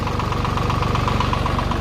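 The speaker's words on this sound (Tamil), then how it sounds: "வண்டி ஸ்டார்ட் ஆயிட்டு" A tractor engine idles and runs steadily with a fast, even knocking pulse, close and loud, just started in a field before the plough is lowered for tilling.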